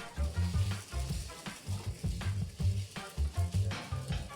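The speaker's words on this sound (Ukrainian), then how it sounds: "Обсмажує м'ясо" Meat frying in a pan with a low steady sizzle, pulsing in rhythmic bursts as it is moved and turned, close and moderately quiet.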